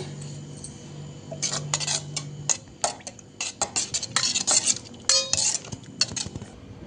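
A spoon clinks and scrapes against a bowl while soaked basil seeds are stirred into palm-fruit payasam. A faint hum runs underneath, and the stirring turns into quick, irregular clinks with no one talking.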